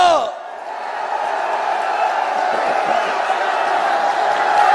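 Crowd at a political rally breaking into sustained cheering and clapping, a steady roar that swells slightly toward the end after a voice cuts off at the start.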